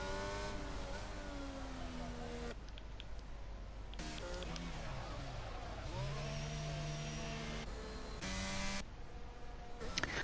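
A race car in a video game laps a track in Spain, its engine note rising and falling through repeated gear changes and revving, loud and continuous, while people talk over it.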